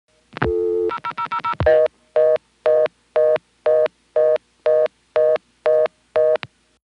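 Touch-tone dialing of a string of zeros on a 1976 Stromberg-Carlson ESC telephone exchange in Chancellor, Virginia: a brief dial tone, a few quick tones, then ten evenly spaced identical beeps, clear and close.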